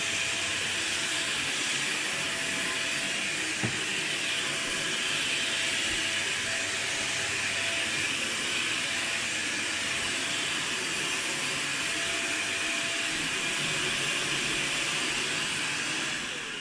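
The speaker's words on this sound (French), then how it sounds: "j'ai fait la vapeur en même temps que l'aspirateur" A Hoover H-Pure 700 steam vacuum cleaner runs continuously, steaming and vacuuming at once, giving a steady, even hissing whir with no pauses.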